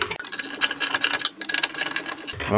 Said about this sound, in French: Donc ça se démonte à la clé 13